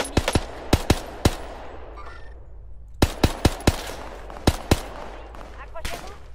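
Gunfire in the battle royale shooter Warzone Pacific: sharp shots in short bursts of two or three, spread across the clip with gaps between, over a steady low background rumble.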